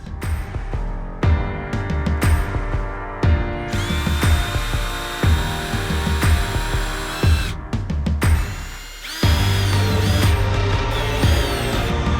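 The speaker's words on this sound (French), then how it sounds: "Là je vais juste pré-percer des trous dans le bois pour que ça soit plus simple de mettre les vis." A power drill pre-drills screw holes in wood while a low vent is installed in a camper van, with several loud, close whirring bursts separated by short pauses.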